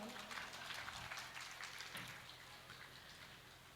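Audience clapping during a Jain religious discourse at a Panchkalyanak Pratishtha festival, a dense, steady patter of many hands filling the hall at a faint, even level with no voices over it.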